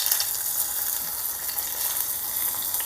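Hot tempering is poured into a spinach and tamarind kadayal (siru keerai puli kadayal) and crackles with a steady, close sizzle that lasts the whole time.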